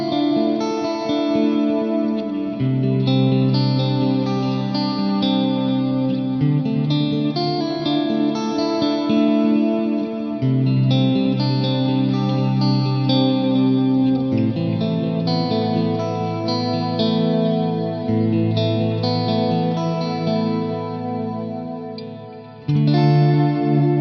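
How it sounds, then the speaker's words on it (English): Clean electric guitar through a CA3 clean amp model rings out with a spacious Mind Guide stereo delay and lush Cirro Cumulus reverb, chords and notes trailing into each other in a steady, unbroken passage. "This is the CA3 clean model with a stereo mind guide delay and the Cirro Cumulus reverb"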